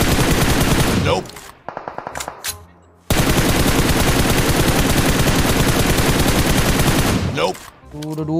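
Heavy automatic gunfire in PUBG Mobile during a competitive match, loud sustained bursts dominating with brief pauses and a short gap, plus a few sharp single shots and faint voices underneath.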